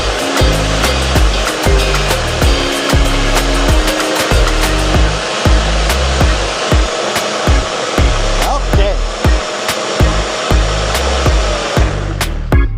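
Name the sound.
blender running on high making a smoothie with honey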